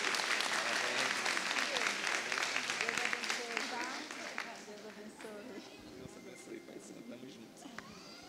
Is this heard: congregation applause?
yes